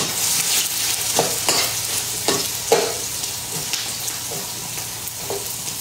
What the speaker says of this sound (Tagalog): Ayan na, may sibuyas na.